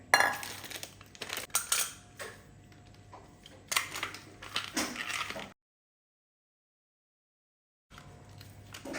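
Almonds scraped down into fine powder: close, busy scratching strokes with small clinks that stop dead for a couple of seconds and then resume.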